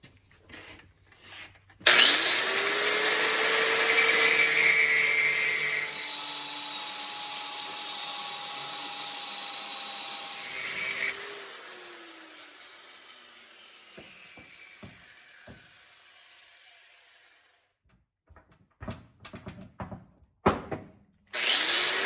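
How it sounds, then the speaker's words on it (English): An angle grinder works on the metal surface of a hydraulic Cat 2 three-point top link, giving a loud, close whine with changing pitch for several seconds, then falling away into quieter scraping and a few knocks. "So I guess I'll go take my grinder."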